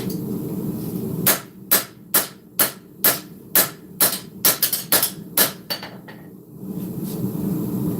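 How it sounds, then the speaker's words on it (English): Hot steel is hammered on an anvil while a sword is forged, with about a dozen sharp ringing blows in a steady rhythm, a quick flurry near the end, then quiet, all close and loud. "So we're forging this."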